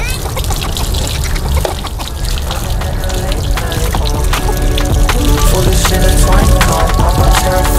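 Water from a hose streams and splashes onto a Toyota Fortuner during a manual outdoor car wash, a continuous loud spattering and trickling, with people talking over it.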